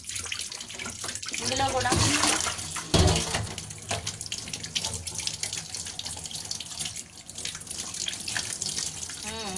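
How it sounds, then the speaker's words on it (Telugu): Running tap water splashes steadily over wheat flour dough being washed by hand in a sink, loud and close with shifting gurgles and splatters, while someone talks over it. "ఒక చపాతీకి సరిపడేంత తీసాను, కడుగుతున్నాను."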